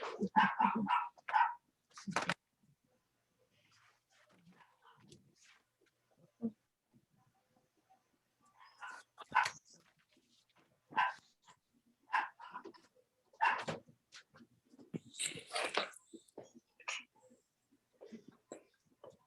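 A dog barks in several loud bursts spread across the stretch, with quiet gaps between them and no talk over the barking.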